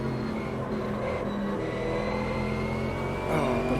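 A GT3 race car in the sim racing game Automobilista 2, its engine a steady droning hum at low volume that rises slightly near the end, with no talking.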